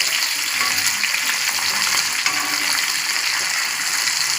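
Fish coated in masala frying in oil on a high flame makes a loud, continuous sizzling crackle, close and steady, with no voices.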